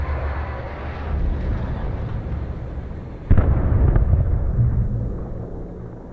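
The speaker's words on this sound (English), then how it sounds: "Did they just crash the helicopter?" A helicopter crashes in the video game Alan Wake Remastered: a sustained roaring rumble is broken by a sudden loud impact burst midway, followed by heavy rumbling debris that slowly fades.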